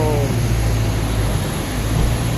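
An Air India Express airliner at Rajiv Gandhi International Airport at night fills the air with a steady, loud, low engine drone, with a faint hum above it and no clear break.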